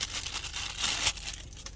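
Crinkling plastic bag around a car air-vent phone mount rustles steadily up close, with a louder crackling burst near the middle before settling back to softer rustles.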